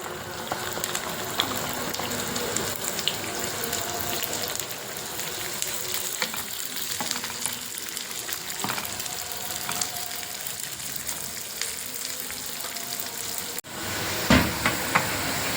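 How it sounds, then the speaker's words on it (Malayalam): Garlic sizzles steadily in hot oil, a dense crackling hiss that holds for the whole stretch with occasional sharper pops and a brief clatter near the end. "ഇത് നമുക്കതുപോലെ വറുത്ത് പോരാ"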